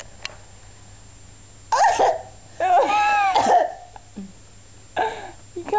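A person gives several short, forceful coughs in separate bursts spread over a few seconds, close to the microphone, against a quiet background.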